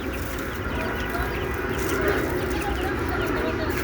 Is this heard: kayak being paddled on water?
no